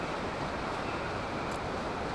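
In Zelda: Tears of the Kingdom, a waterfall rushes in a steady broadband wash of falling water, constant and fairly close, with no voices over it.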